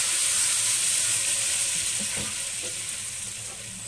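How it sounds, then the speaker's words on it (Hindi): Spices with turmeric sauté in a hot pan for dal tadka. A steady, close sizzle fills the whole stretch, with a few light stirring scrapes in the middle. "अब हम इन सबको फिर सौते कर लेंगे, भून लेंगे।"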